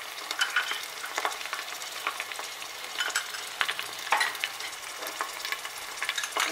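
Ginger paste frying in a pan for mutton nihari sizzles and crackles continuously with busy, uneven spitting and stirring, close and moderately loud.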